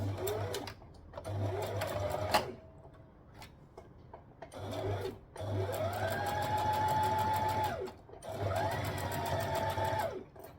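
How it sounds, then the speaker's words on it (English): A sewing machine stitching elastic onto dress fabric runs in several bursts, each a rapid mechanical whirr rising and settling, separated by short pauses, close and clear. "I'm just going to sew all the way down and then all the way up"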